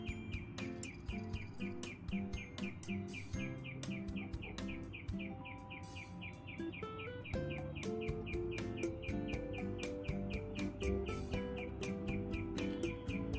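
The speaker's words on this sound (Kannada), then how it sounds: "ಅದಕ್ಕೋಸ್ಕರ ಪಕ್ಷಿ ಯಾವಾಗಲಿಂದ ಕೂಗ್ತಾ ಇದೆ ಇದೇ ಥರನೇ" A bird calls repeatedly from a tree near a house, sharp rhythmic chirps at moderate distance over a soft background with steady insect-like buzz and household noise.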